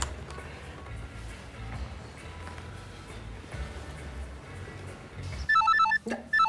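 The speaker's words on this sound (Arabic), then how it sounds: "طب رد على التليفون ده وافتح السبيكر." A telephone rings in an Egyptian film scene, a bright repeating electronic ringtone that bursts in near the end after a stretch of low, muffled background rumble.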